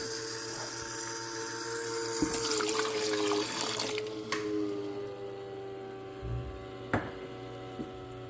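Water runs steadily through a Frigidaire countertop ice maker being cleaned, a continuous trickling flow with brief clunks and a louder splashy stretch midway, no voices.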